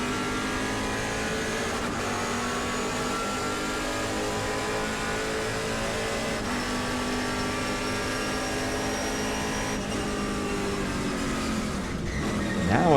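Trans Am race cars run at Portland International Raceway, with loud, sustained engine roar and shifting whines from several cars blending over the whole stretch and rising near the end, under faint commentary.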